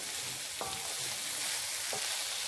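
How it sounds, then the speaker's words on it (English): Coconut fried rice sizzles steadily in a hot pan, a constant close frying hiss with a couple of faint clinks of stirring. "I've been frying this for 10-15 minutes now"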